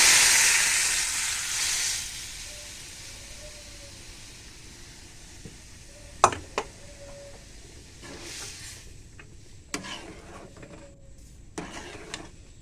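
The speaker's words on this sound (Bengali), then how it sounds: "ডালটা দিয়ে দিচ্ছি।" Cooked dal hits hot tempering in the pan with a sudden loud hissing sizzle that fades over a couple of seconds into a quiet simmer, broken by a few sharp clinks of a utensil.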